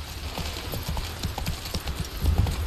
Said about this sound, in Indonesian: Kita jalan pakai kuda aja guys.